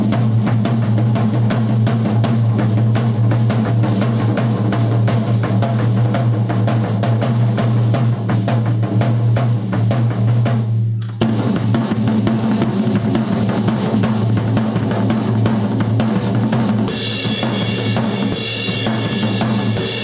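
A surf beat is played on the toms of a drum kit: rapid, driving, rolling hits with shifted accents pound continuously and loudly, with a brief break midway and cymbal wash near the end.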